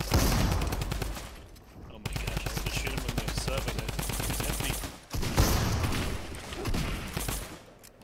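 Rapid automatic gunfire from a shooter video game rattles in dense, loud bursts with brief gaps between volleys, no voices over it.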